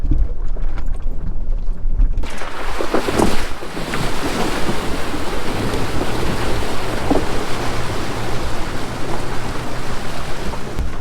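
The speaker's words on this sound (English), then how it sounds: "Going back through the creek." A vehicle driving through a creek on a farm, with a sudden onset of loud, rushing water splashing and churning that continues steadily, mixed with wind buffeting the microphone.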